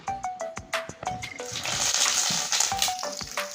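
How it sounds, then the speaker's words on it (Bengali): Potatoes frying in hot mustard oil, giving a loud, close, bright sizzle that swells after a few sharp utensil taps against the pan at the start. "তেলটা গরম হয়ে গেছে এবার এই আলুগুলো ভেজে নেবো লাল করে"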